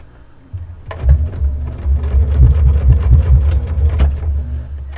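A sewing machine tacks a label onto a memorial quilt with a steady, close, rhythmic run of stitching after a short quiet start.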